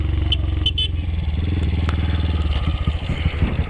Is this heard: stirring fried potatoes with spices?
no